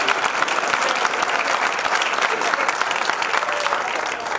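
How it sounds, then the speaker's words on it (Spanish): Audience applauds a new member of a university student tuna from Huelva, steady dense clapping from a crowd filling the whole stretch without a break. "Un aplauso para el novato."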